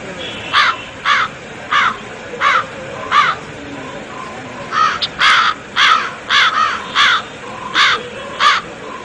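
A crow caws repeatedly in harsh, evenly spaced bursts, about a dozen calls over a steady outdoor background, loud and close.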